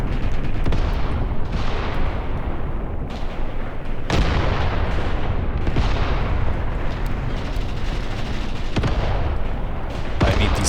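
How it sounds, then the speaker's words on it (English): Howitzer shells landing in the Graviteam Tactics war game, a dense barrage of heavy booming impacts and sharp cracks over a continuous low rumble, loud and close throughout, with no voices. "the howitzer shells, they are landing now"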